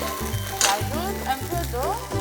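Rice paste frying in a pan, a steady close sizzle with a few stirring scrapes and clatters through the short stretch.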